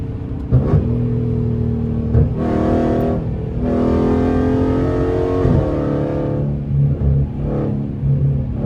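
A catless Dodge Scat Pack revs hard and upshifts through its paddle shifters, a loud, close rumble that climbs in pitch, drops with each shift and climbs again, with a few quick blips near the start.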